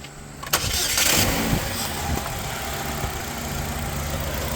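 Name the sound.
2005 Chevy Cobalt engine starting and idling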